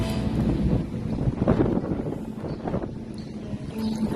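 Gusty wind buffets the microphone beside a sunny hotel pool in Manila, low rumbling bursts rising and falling over a few seconds with no speech.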